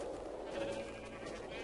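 A few brief bleats from sheep in the video game Minecraft, faint and clipped, sounding over a low background murmur.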